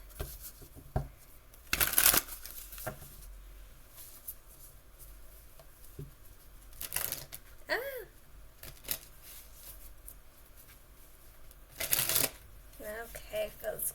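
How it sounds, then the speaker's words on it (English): Tarot cards being shuffled by hand, with repeated soft riffling and flicking bursts, a few louder shuffles standing out, while someone talks intermittently over them. "I do apologize if the cards are loud."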